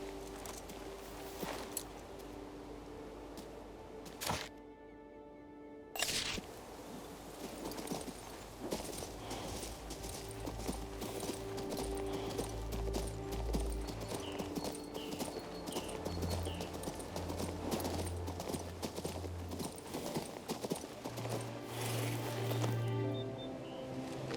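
Steady horse hooves clip-clopping at a walking pace in the video game King's Bounty II, close and rhythmic, with game background sounds and a brief drop to near silence early on.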